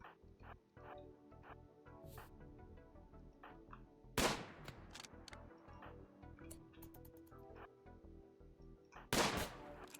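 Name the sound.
gunshots in video game RimWorld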